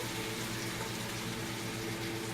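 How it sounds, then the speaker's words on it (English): Water splashes into a hot pan of frying shrimp for a curry, producing a constant hissing, bubbling wash of sound with a low hum underneath, steady throughout and without speech. "we will add a little bit of water so it doesn't get burned any further"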